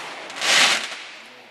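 A single firework goes off at a 4th of July celebration, a loud burst that swells and then fades over about a second. No one speaks.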